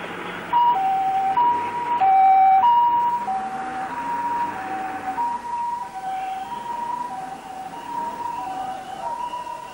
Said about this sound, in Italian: Le ambulanze fanno ripetutamente la spola dall'area della festa agli ospedali.